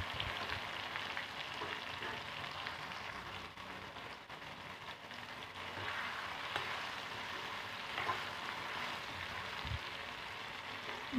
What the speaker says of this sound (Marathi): दोडका 5 ते 7 मिनटं मी परतून घेतलेला आहे.